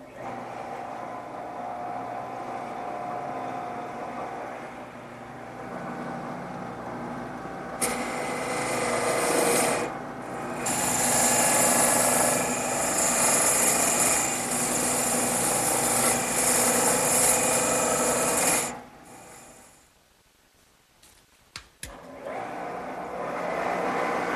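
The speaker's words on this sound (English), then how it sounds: "I'm going to speed up the lathe a little bit and make the final cuts." Wood lathe turning a table leg copy on its final cuts, a steady spinning hum joined by a harsh scraping tool cut that runs for about ten seconds, then stops as the machine winds down.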